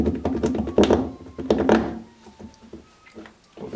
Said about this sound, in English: Guess we'll use the key to open the breather.